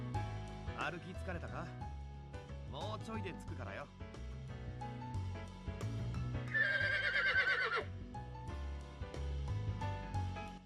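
A stock horse neigh from a video game rings out as a bright, quavering whinny lasting about a second, set amid game music and effects.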